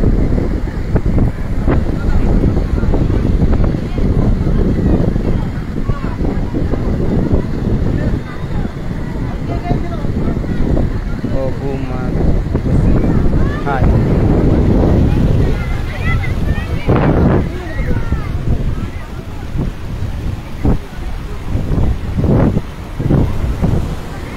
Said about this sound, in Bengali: আজকের দীঘা সমুদ্র সৈকতের প্রবল জলোচ্ছ্বাস